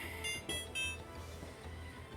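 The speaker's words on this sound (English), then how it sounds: "every time you hear that sound, it's my oven" An electronic oven timer beeps in short repeated bursts, fairly faint against a quiet kitchen background.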